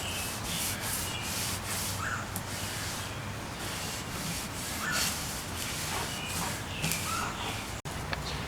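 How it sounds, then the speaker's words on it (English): Wood is sanded on an extendable dining table being refinished, a continuous rough rubbing hiss that holds steady throughout, fairly close, with a brief knock near the end. "More sanding."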